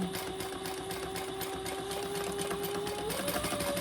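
A sewing machine runs steadily at close range while basting a narrow seam on a fabric travel wallet organizer, a continuous motor whir that shifts slightly in pitch near the end.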